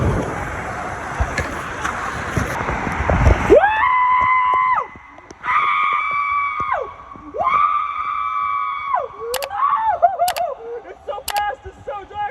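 A loud rushing, splashing roar at a water park gives way to a voice letting out several long, sustained screams with short breaks between them, close and piercing.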